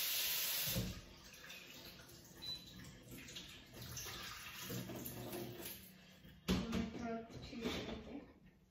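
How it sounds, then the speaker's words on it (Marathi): Tap water runs steadily while vegetables are washed in a sink, a continuous close splashing rush with shifting bursts as hands move the greens, a voice speaking quietly underneath. "आता मी भाजी धुवून घेते."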